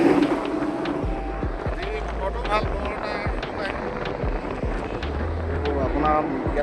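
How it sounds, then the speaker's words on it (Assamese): Strong wind blowing across the Bogibeel bridge while driving, a loud, steady rumbling buffet with passing road noise underneath and a person talking over it. "আপোনাৰ ইয়াততো পূৰা বতাহ দি আছে।"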